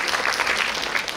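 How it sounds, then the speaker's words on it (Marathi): Audience applause at a commemorative Women's Day event, a brief, dense burst of many hands clapping, fairly close and steady without voices above it. "आपण त्यांचं देखील एकदा जोरदार टाळ्या वाजवून"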